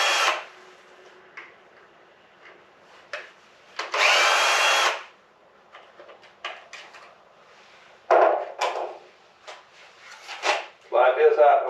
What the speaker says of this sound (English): I actually managed to find some JIS screwdriver bits for an electric screwdriver.